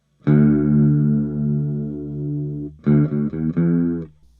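An electric guitar note rings out through a Lekato Pitch Box pitch shifter pedal set to -5 detune, giving a chorus-like pitch effect, sustained, then a few shorter detuned notes follow.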